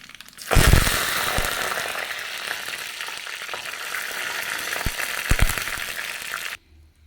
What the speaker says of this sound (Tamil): கடுகு வெந்தயம் கருவேப்பிலை வரமிளகாய் போட்டு தாளிச்சிக்கலாங்க